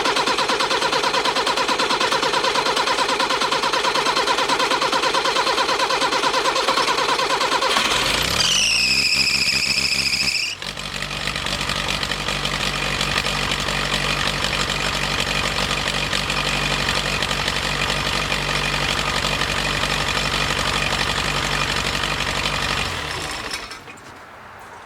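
A Perkins diesel engine runs steadily and loud at close range, with a brief rising whine partway through before the steady running resumes, then cuts off at the end.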